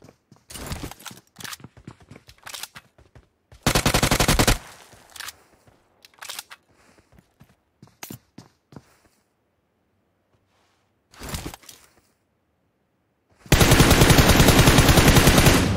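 Gunfire in the PUBG Mobile shooter game: loud bursts of rapid shots broken by quiet gaps with scattered single pops and footstep-like clicks, ending in a long sustained volley.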